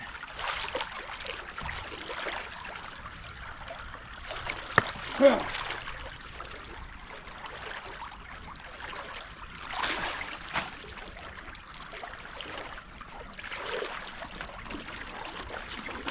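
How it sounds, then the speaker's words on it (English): Water trickles through a narrow channel cut in a beaver dam on a creek. It makes a soft, steady hiss and gurgle at low level, with a few faint splashes. "I'm gonna let it drain some, you guys."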